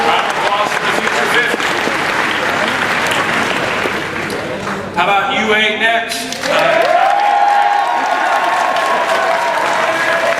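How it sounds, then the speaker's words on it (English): Loud audience applause and crowd cheering at a UA game event, mixed with someone speaking over an amplified mic; the clapping briefly dips midway, then swells again with a steady tone ringing under it. "Round of applause for the future"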